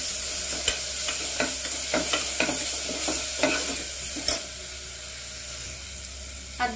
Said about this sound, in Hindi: अदरक लहसुन का पेस्ट अच्छे से भून गया है